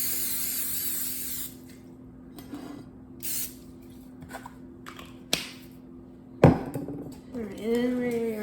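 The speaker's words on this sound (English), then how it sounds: "we need to spray the bread pans with cooking spray" Cooking spray aerosol hissing onto bread pans for a gluten-free, dairy-free chocolate loaf cake comes in a few short, close bursts among small kitchen clatters and handling noises.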